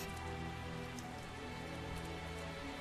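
Rain falls in the Tales of Zestiria video game as a steady, dense, even hiss with no letup, and no voices can be heard.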